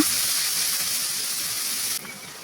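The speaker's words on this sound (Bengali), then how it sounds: "এবারে একই তেলে কুচি করে কাটা পেঁয়াজগুলো দিয়ে অল্প একটু নাড়াচাড়া করে নেব।" Chopped onions frying in hot oil left from frying fish for a Bangladeshi fish curry, giving a steady, close hiss that drops slightly in level near the end.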